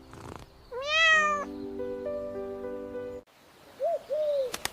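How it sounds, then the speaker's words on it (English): A single drawn-out cat meow rises and falls, followed by soft sustained musical tones and a couple of short, higher chirps. "This is a cat. The cat says,"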